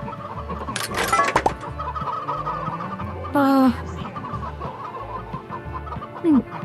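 Chickens cluck and squawk close by in a busy yard, with short raspy calls and a couple of brief high squeals over a low rhythmic background.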